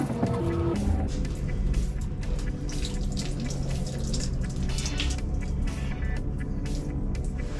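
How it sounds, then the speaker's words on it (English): Water drips and trickles steadily from a worn, leaking gasket on a Pentair Hi-Flow pool filter, with a soft patter over a low background rumble. "It's starting to leak a little bit."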